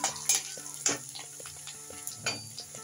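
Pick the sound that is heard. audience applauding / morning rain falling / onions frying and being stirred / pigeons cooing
onions frying and being stirred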